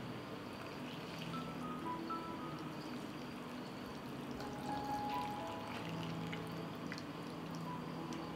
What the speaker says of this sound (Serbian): I nalivamo sa toplom vodom.